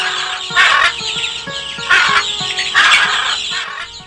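Two parrots eating grain squawk and screech in three loud bursts, with softer chirps and calls filling the gaps between them, close and without any talk.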